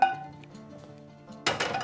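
A quiet low hum, then a sudden metallic clank as a frying pan is set down on a stove while cooking kofta curry, followed by a brief rattle of cookware.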